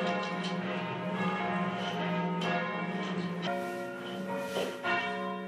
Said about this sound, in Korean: 행사의 시작을 알리는 종이 울리고 마을 주민들이 한자리에 모였습니다